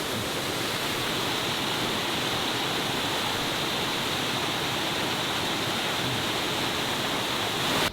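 A waterfall pours in a steady, loud, unbroken rush of broadband noise that holds evenly throughout with no voices.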